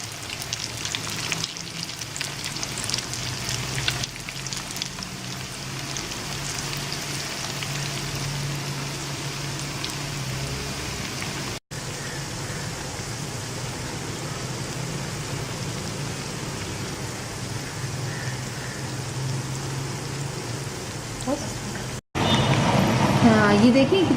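Spicy fish nuggets frying in a pan on low heat, a continuous soft sizzle and crackle like light rain, steady throughout with brief breaks.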